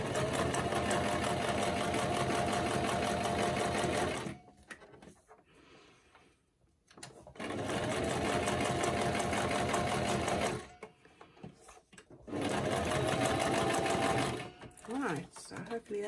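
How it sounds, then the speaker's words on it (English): Sewing machine stitching recycled envelopes runs in three loud, continuous bursts with short pauses of rustling between them. "Hopefully that's all the stitching I have to do today."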